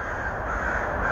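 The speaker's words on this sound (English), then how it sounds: "They're just circling around. I've never seen crows do that." A startled flock of crows circles overhead, giving harsh caws. The calls are fairly distant and blend into a continuous, noisy outdoor wash with no talking.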